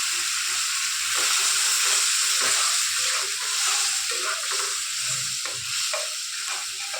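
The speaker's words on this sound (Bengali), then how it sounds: "আলু আর চিংড়িটা দিয়ে একটু নেড়ে চেড়ে হালকা ভেজে দেবো" Spice paste with ginger paste frying and being stirred in a pan, a steady close sizzle with scraping stir strokes throughout, no voices.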